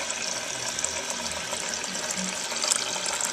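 Water runs into a large drinking container, a steady, bright gushing hiss that holds loud and close throughout with no voices.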